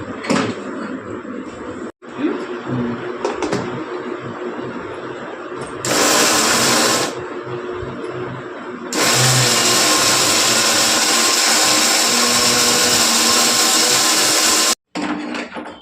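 A kitchen mixer grinder pulverizes dried herbal leaves such as moringa, curry, henna and hibiscus into fine powder, running in loud whirring bursts with short pauses between them.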